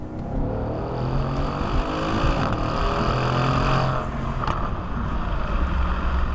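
A 2016 Mercedes-AMG C63 S engine runs with a continuous, fairly loud rumbling roar that holds steady for several seconds, with no talking over it.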